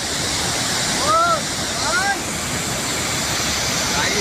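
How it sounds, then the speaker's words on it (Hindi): Heavy monsoon floodwater pours as a waterfall inside Anitha cave, a loud continuous rushing roar filling the space, with a couple of brief faint tonal chirps over it. "अनीठा गुफा के अंदर झरना है जो कुछ इस तरह बह रहा है"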